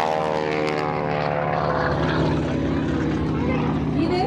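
A Cessna propeller airplane, the first all-aluminium Cessna model, takes off at an air show in Sivrihisar, its engine and propeller droning loud and close with a steady buzzing roar that shifts slightly in pitch as it climbs.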